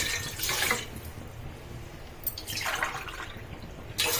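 Water is poured from a glass in a few separate splashy bursts into a container holding rice flour, quiet in between, with no voices.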